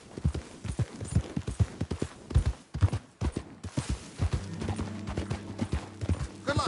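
Horse hooves clop in an uneven galloping rhythm in the Red Dead Redemption 2 video game, fairly close and moderately loud, with a low steady hum joining in partway through.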